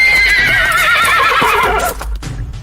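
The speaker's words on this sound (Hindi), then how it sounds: "घोड़े दहशत में हिनहिनाते हुए अपने पिछले पैरों पर खड़े हो गए।" Horses neigh in panic, a long shrill whinny with trembling pitch, loud and close, followed by stamping hooves and rustling as it fades, staged as an audio drama sound effect.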